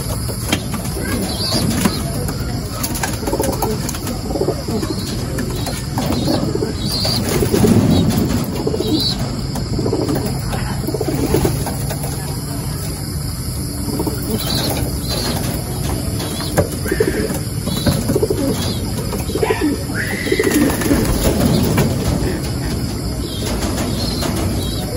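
Racing pigeons coo and flap their wings close by in a loft, with soft repeated coos and bursts of wingbeats over a constant noisy background.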